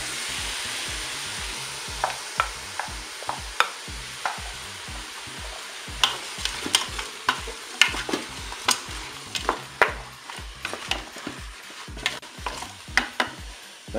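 Apples and mushrooms frying with pork in a Cookeo multicooker, a steady close sizzle punctuated by frequent sharp crackles and spatula scrapes throughout.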